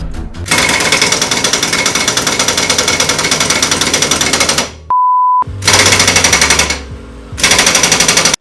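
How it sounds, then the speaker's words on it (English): Impact wrench hammering loudly at stubborn axle and drive shaft nuts on a Subaru STI with a six-speed gearbox during a clutch job, long rattling bursts broken by a short steady whine and then more rapid impacts. "you want to actually crack the axle or drive shaft nuts off, because as you're about to see, they don't always come off quite nicely"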